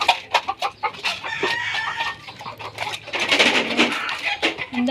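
Chickens clucking in an irregular flurry close by, with a rooster crowing partway through among fighting cocks, lively farmyard sounds without talk.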